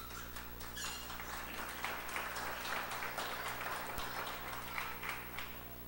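A church congregation applauds at a service led by a woman pastor, a steady wash of many hands clapping in a large room, continuous and moderately loud over a low hum, with faint scattered voices beneath.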